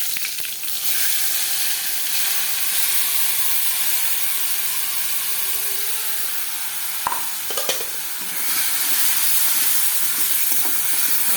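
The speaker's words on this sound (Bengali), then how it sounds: "এই যে মশলাটা দিয়ে দিই একটা" Spice paste sizzling in hot oil in a wok for a Bengali jackfruit and prawn curry, a loud continuous frying hiss with stirring scrapes, steady throughout with a brief lull midway, no talk.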